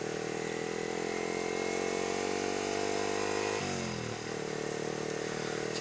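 A motorcycle with a standard stock exhaust drones steadily while being ridden, its engine note dipping briefly as the revs shift partway through, loud and close with continuous wind noise.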